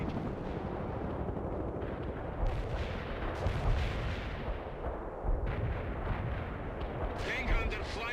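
Artillery barrages in the real-time strategy game World in Conflict, heavy booming blasts rolling one after another over a dense battle din, loud and continuous, with radio voices now and then.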